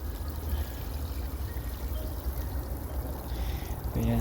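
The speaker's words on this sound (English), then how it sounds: "It's already had a full watering can full of water, but I'm just going to give it a bit more" Steady pour of water from a watering can onto free-draining bonsai soil around a young sloe tree, a continuous splashing rush that stays loud and even throughout, close by, with no talking.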